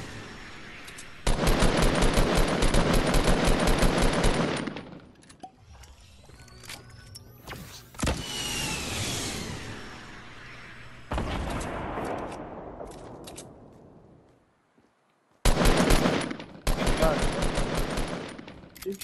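Rapid automatic gunfire in Fortnite, with long continuous bursts of shots, a quieter stretch of scattered shots and echoes, then two more loud bursts near the end. Faint voices come through in places.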